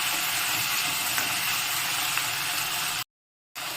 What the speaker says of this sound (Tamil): இப்போ எல்லாத்தையும் போட்டு நல்லா கிளறி விடலாம். கொஞ்சம் வதங்கட்டும்.